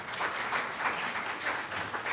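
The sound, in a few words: audience applause for panelists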